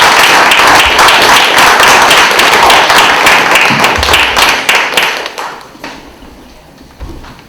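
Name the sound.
audience applause at panel discussion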